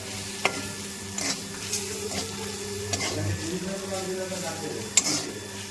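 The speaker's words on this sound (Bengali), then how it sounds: "পেঁয়াজ রসুন আদা জিরার গুঁড়ো মরিচের গুঁড়ো ধনের গুঁড়ো সব একসাথে দিয়ে দিয়েছি লঙ্কা দিয়ে কষাই করে নেব এখানে" Onion, garlic, ginger, turmeric, salt and ground cumin, chilli and coriander are stir-fried together for a spicy crab and tilapia curry, producing a low sizzle broken by several utensil clinks and scraping strokes, with no speech.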